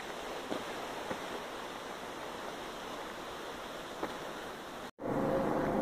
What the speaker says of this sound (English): can you hear the babbling brook?